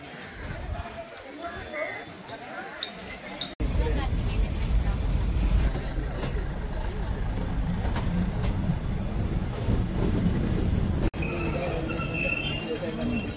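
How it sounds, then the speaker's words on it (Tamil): The Ooty toy train rolls through eucalyptus forest, its continuous rumble and rattling wheels filling the carriage, with a long faint squeal and people talking over the steady noise. "யூக்கலிப்டஸ் மரத்துக்கு நடுவில் கூடி வண்டி போயிட்டுருக்கு."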